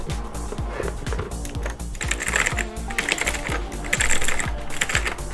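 Rapid, continuous typing on an HP GK100 full-size mechanical gaming keyboard with blue switches produces a dense run of sharp, clicky keystrokes, close and loud, without pauses.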